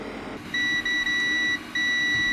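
A multimeter's continuity tester beeps steadily while probing a water-damaged Nintendo Switch Lite circuit board, a loud, close, high electronic tone with brief dropouts as the probes lose and regain contact.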